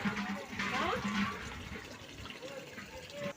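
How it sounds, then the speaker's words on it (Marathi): Water gushes steadily from a pump outlet, a continuous rushing splash with a low motor hum beneath and some voices in the background. "मोटर चालू केलेली पाणी भरते मी"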